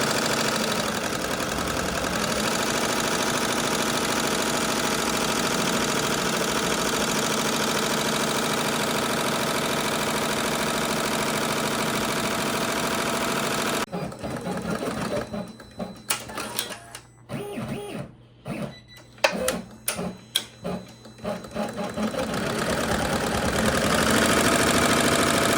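An embroidery sewing machine stitches an appliqué tack-down run on an 8x13-inch hoop, a fast, steady mechanical whirring and clatter that plays continuously, then breaks into choppy, irregular bursts before resuming.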